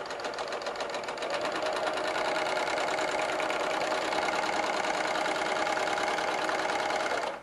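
A quilting sewing machine stitches continuously with a shortened stitch length, a fast steady mechanical whirr that runs close and even for several seconds before stopping abruptly.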